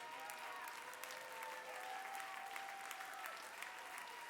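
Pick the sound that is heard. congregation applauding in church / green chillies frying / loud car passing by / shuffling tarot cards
congregation applauding in church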